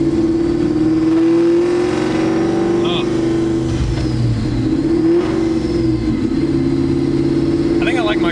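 Ford Terminator Cobra with a loud exhaust, the engine droning and rising from inside the car, a steady rumble with surges while people talk over it.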